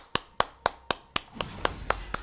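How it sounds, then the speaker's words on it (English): Hands clap nine times at a slow, steady pace, each clap sharp and close, with quiet gaps between them and no talk. "So this is me clapping."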